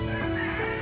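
A bonsai chicken gives one short, close cluck, under a second long, with no talking.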